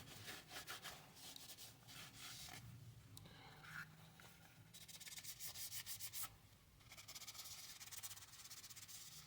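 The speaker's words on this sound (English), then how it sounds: "Let's get a little wipe down going on real quick." Cloth rubbing and wiping over the surface of a Glock 43X pistol, close-up scrubbing strokes in bursts with brief pauses, fairly quiet and with no speech.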